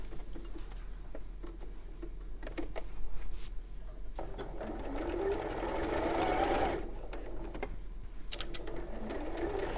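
A sewing machine stitches quilt fabric along a drawn line, giving a steady close mechanical whir with brief stops and restarts and light clicks.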